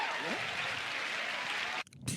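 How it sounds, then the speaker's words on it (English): A comedy audience applauds in a steady, dense wash of clapping that stops abruptly near the end, followed by a brief burst of nearby sound. "Applause break."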